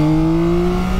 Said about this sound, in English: Oh, the noise from that airbox sounds absolutely fantastic.